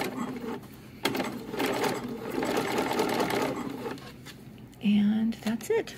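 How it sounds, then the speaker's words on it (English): Sewing machine stitching dress fabric with a double needle: a short burst, then a sustained close mechanical whir, followed by a few quick stops and starts near the end. "So now we're ready to sew. Take a few stitches, back stitch."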